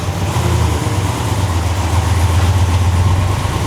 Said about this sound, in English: I think I hear a terrible Foxbody Mustang.